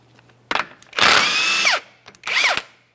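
A power tool whirs up in two long bursts removing a 32mm axle nut on a 2010-2013 Kia Forte Koup, with a short rattling blip before them, loud and close, its pitch dropping as each burst winds down.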